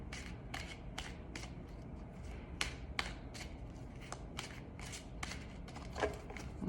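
Tarot cards being shuffled by hand, a soft run of separate crisp flicks and riffles in an irregular rhythm, quiet and close with no talking.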